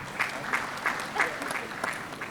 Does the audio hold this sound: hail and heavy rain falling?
no